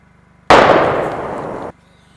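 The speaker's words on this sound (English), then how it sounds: "Now let's put our explosion in a movie." A single sudden explosive blast bursts in from near silence, roars for about a second with a slowly fading rush, then cuts off abruptly.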